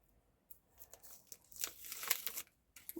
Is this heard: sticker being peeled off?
yes